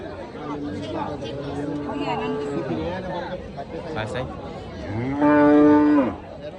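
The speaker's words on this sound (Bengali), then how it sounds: "এই সৈয়দপুর পুরাতন বাজারে প্রচুর পরিমাণ গরু উঠছে আজকে" Cattle moo amid a busy livestock market in Saidpur, Debidwar, Comilla, with crowd chatter throughout and one loud, drawn-out moo rising near the end.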